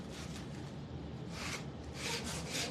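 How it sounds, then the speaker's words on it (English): An electric sander works on wood with a steady, close, rough whirring hiss that swells slightly in brief bursts. "So we're gonna take our sander"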